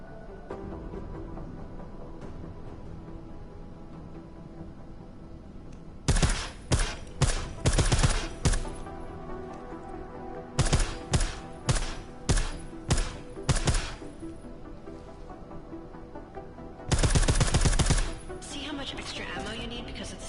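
Suppressed gunfire in Deus Ex: Mankind Divided, fired in three separate rapid bursts of sharp, dry shots over a low game ambience with no talk.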